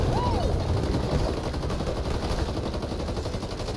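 Continuous gunfire in the zombie shooter game Back 4 Blood rattles at a steady, dense level, with a brief tonal sweep near the start.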